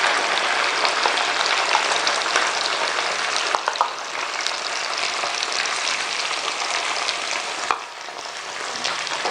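Chopped tomato, garlic and ginger fry in a karahi, with a dense, continuous close-up sizzle and occasional stirring scrapes.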